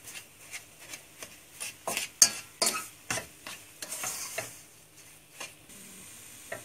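Flour halva being stirred with sugar in a pan, a spoon scraping and tapping in a steady rhythm up close, with a soft sizzle beneath and no voices.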